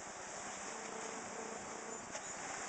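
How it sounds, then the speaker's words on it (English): A mass of honeybees being shaken into a top bar hive, giving a dense, steady buzzing hum that is close and continuous throughout, with no talk over it. "Now we're gonna shake some bees."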